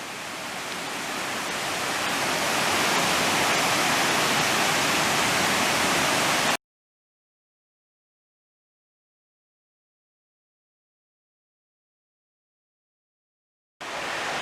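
A stream flows beneath a footbridge on a forest fire road in Shenandoah National Park, its steady, loud broadband rush swelling over several seconds before cutting off abruptly, then resuming briefly at the end.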